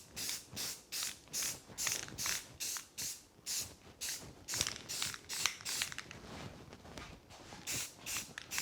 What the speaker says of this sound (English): take a couple coats of primer, 2 thin coats.